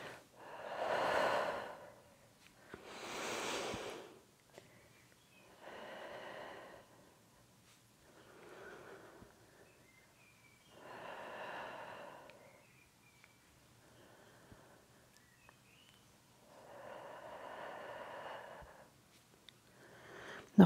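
Slow, deep exhales during a standing, equipment-free workout, each breath a long airy rush repeated roughly every two to three seconds, close and unhurried with quiet gaps between, no talking over them.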